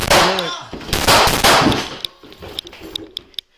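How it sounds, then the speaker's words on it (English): Gunshots fired by a police officer during a confrontation with a machete-wielding suspect: a burst of loud, close reports in the first second and a half, followed by sparse sharp cracks and clinks that fade out. "211 County, shots fired."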